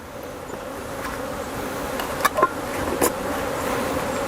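Agitated honey bees at a hive, disturbed while a sample of about 300 is taken with alcohol, keep up a steady, dense buzzing drone close by, with a few brief louder knocks and no talking.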